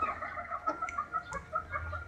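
A village chicken sick with snot, its eyes swollen and watery, gives soft, repeated low clucks close by over a faint background rumble.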